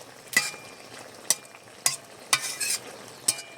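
Shukto vegetable curry with cumin-chilli powder being stirred in a pan, giving five or six distinct scraping strokes spaced about a second apart over a faint background sizzle, fairly close and with no talking.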